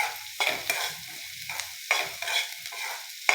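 Onion and tomato sizzle in a hot pan while a spoon stirs them, giving repeated scraping strokes over a steady close fry with no voices.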